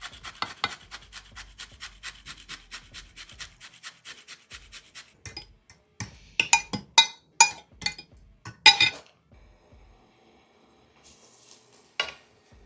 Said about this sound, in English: I'm going to go in with a bit of grated truffle.